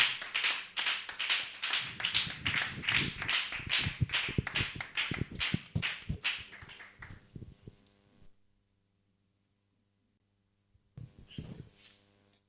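Congregation in a church clapping and cheering for God, a dense run of rhythmic claps and shouts that builds, fades to silence, then bursts back briefly.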